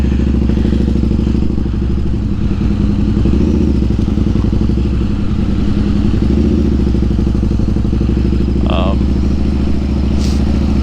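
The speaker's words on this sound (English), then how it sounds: "That dude's going dirt riding." A dirt bike rides past in a parking lot, its steady engine drone loud and continuous throughout, with some clatter and a person talking over it.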